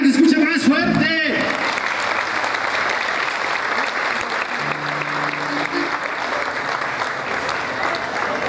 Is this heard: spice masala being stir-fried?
no